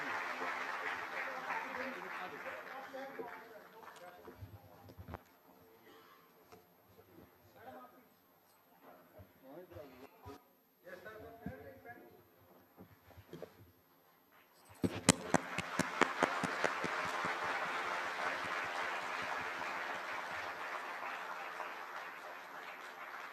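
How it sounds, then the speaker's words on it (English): An audience in a hall breaks into loud, sustained applause for the Shimla team at a National Sample Survey anniversary event, following a stretch of someone speaking over a microphone. "Huge round of applause for them, please."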